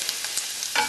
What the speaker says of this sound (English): Fry off the garlic.